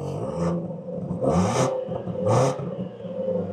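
Range Rover Sport SV 4.4-litre V8 revved at standstill, three sharp blips that rise and fall in pitch over a rumbling idle, loud and close with no voices.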